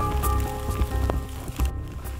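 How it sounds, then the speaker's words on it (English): Rain falls steadily during a multi-day Pacific Crest Trail hike, close patters and drops striking a surface with irregular louder taps over a constant wash, no voices. "So, third day of continuous rain."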